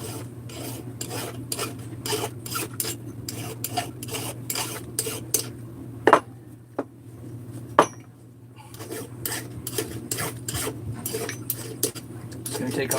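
Rhythmic rasping strokes of a file deburring a cut muffler pipe, close and even, briefly pausing with a couple of sharp metallic knocks before the filing resumes.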